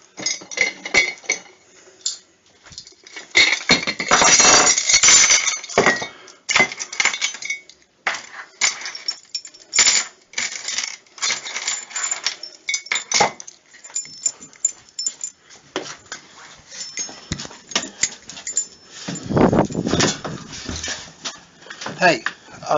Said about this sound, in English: I'm just getting the keys out of the kitchen